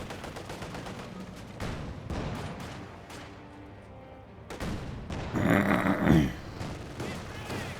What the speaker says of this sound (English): 2-2 firing away with its autocannon.